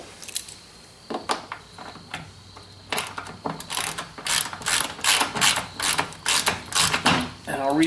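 Hand ratchet retightening bolts on a Smittybilt XRC JK fender flare on a Jeep, giving sparse clicks at first, then rapid, loud, rhythmic ratcheting bursts close by.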